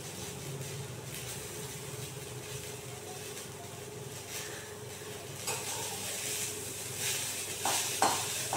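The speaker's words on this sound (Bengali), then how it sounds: "ভাজা ভাজা হচ্ছে, রসুনগুলো লাল লাল হয়ে গেছে" Garlic cloves fry in a pan until reddish, giving a steady low sizzle with scraping and clinking as a utensil stirs against the metal, close and continuous, growing slightly busier toward the end.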